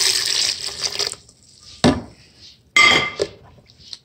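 Nearly a cup of water is poured into a blender for a salad dressing, a splashing pour followed by clinks of dishes and another short burst of water, close by.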